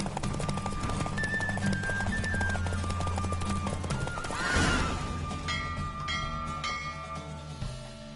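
In The Witcher video game, a horse whinnies loudly over steady galloping hoofbeats during a race, with game music playing beneath.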